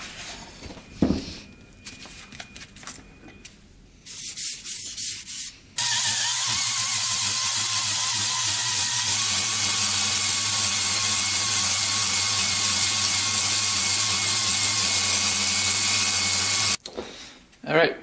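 Honing a Honda 250x quad engine cylinder produces a loud, steady abrasive whir that runs without a break for about eleven seconds. It is framed by quieter stretches of handling noise.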